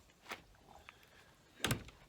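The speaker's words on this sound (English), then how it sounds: "Door shut." A door closing at a lodge during winterizing, heard as a soft click early and then a sharper thud near the end, faint and fairly close in a quiet room.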